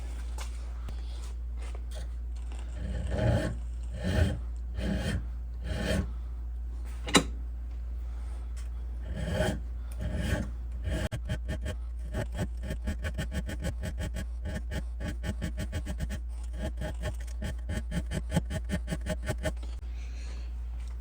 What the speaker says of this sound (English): A little more aggressive file.